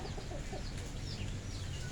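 Chickens cluck softly at a farm, a few short calls over a faint, steady background murmur, with no one speaking.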